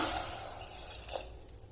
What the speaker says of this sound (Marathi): थोडंसं परतवल्यानंतर त्यात टाकते मी एक ग्लास पाणी